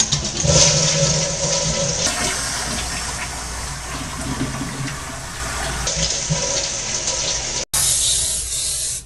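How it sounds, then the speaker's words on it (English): Toilet flushing loudly and close, a rushing surge of water that roars for several seconds and then settles into refilling sounds, with no talking over it. "Now flush."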